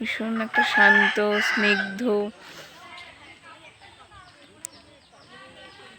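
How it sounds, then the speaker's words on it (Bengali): A rooster crows loudly and close by among hens clucking in a rural hillside setting, the calls stopping after about two seconds, with faint bird calls and a person speaking quietly afterward. "মোরগ মুরগি ডাকছে।"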